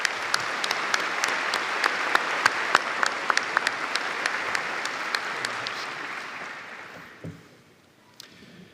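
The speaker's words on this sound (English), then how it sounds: "Please provide a round of applause for these university leaders." A large crowd applauds university leaders at an Auburn University fall commencement ceremony, steady broad clapping with sharp individual claps on top, gradually thinning and fading out near the end.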